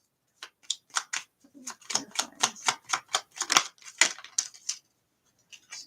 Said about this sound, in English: I'm gonna try to shuffle my little clarifiers